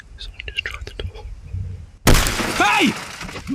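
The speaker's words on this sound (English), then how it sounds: "Moments later, the sound of shattering glass jolted Brendan. His passenger side window had been smashed." A car's passenger side window glass smashing, a sudden loud crash about two seconds in that follows quiet whispering and then rings out with a lingering shatter and tinkling debris.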